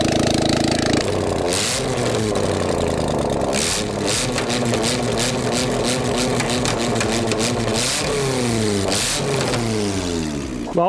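A smoking Honda Civic engine runs close by and is revved repeatedly, its pitch climbing and falling in several strong surges over a steady idle.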